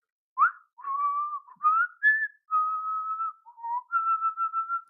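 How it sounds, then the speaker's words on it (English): Someone whistles a short, clear tune alone, a string of sustained and sliding notes with brief pauses between phrases. "Is this whistling happening?"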